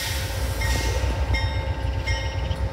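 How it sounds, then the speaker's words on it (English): A double-engined Amtrak train pulls out of Union Station, its steady low rumble and rolling rail noise continuous throughout, with faint high wheel squeal tones drifting in and out. "It's a double-engined Amtrak and it seems like it's leaving."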